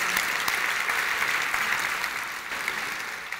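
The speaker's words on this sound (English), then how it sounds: "so please give her a round of applause." An audience applauds continuously, a dense wash of many clapping hands at steady loudness, tapering slightly toward the end.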